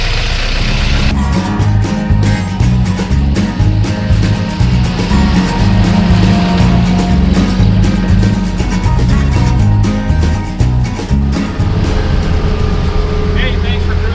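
A 1957 Willys Jeep FC150 forward-control truck drives at about 45 mph, its engine giving a loud, steady drone with rhythmic mechanical clatter and rattling throughout, without a break.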